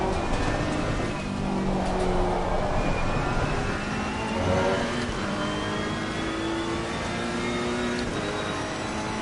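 Race car engine from Assetto Corsa Competizione, a GT car on a US track, droning steadily with pitch rising and falling through gear changes, loud and continuous while a voice talks over it.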